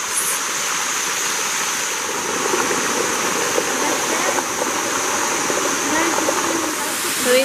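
Water pours steadily down the Sticky Waterfall in Chiang Dao, Thailand, a dense continuous rushing roar heard close and unbroken throughout.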